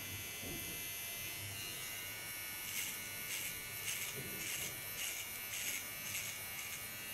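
An electric clipper shaves the side of a head for a punk hairstyle, a constant close buzz with pulsing strokes as it moves over the hair, steady throughout.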